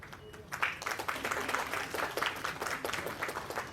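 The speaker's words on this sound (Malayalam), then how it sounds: "ഹൃദയം നിറഞ്ഞ ഒരു കൈയടി ഈ ഒരു വേദിയിൽ നമുക്ക് നൽകാം" An audience at a Land 4 Hope launch event on stage gives a round of applause. The clapping is fairly faint and distant, rises after a brief moment and holds steady throughout.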